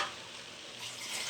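Moringa leaves and boiled toor dal frying in a pan without oil, a steady close hiss of sizzling that swells slightly toward the end.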